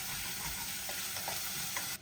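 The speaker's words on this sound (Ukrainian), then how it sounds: "Я зменшую вогник для телятини, додаю туди трошечки водички" Veal braising in a pan with a splash of water added over lowered heat, giving a steady close sizzle and bubbling hiss with faint soft pops throughout, no talking.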